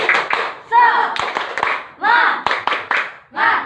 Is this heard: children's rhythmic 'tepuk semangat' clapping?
yes